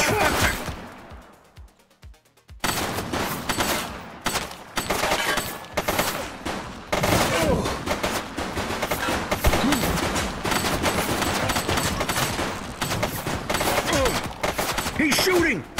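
Sustained rapid gunfire in the police video game The Precinct, dense machine-gun-like bursts running loud and continuous after a brief quieter opening.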